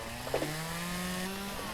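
A chainsaw in the video game Lumberjack's Dynasty cuts into a tree and jams, a steady buzzing drone holding at moderate level with a brief bump partway through, no voices.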